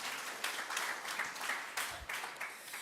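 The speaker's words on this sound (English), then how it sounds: "Yes, round of applause." A room full of people at a community learning and development members' conference applauds workshop leaders from a tenants' federation, a steady dense clatter of many hands lasting the whole moment at moderate volume.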